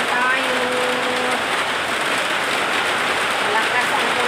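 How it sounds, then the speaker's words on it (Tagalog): Heavy rain drumming on a roof, a dense, loud and steady hiss of drops with no break, and a voice speaking briefly over it. "Malakas ang ulan."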